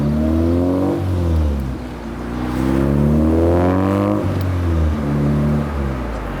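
K-swapped Honda Civic engine revving up through several gears as the car pulls away, loud rising pitches broken by shift pauses, close and without talk.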